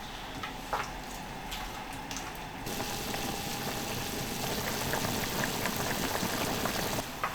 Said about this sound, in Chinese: 煮开了，我们整到高一锅里去哈。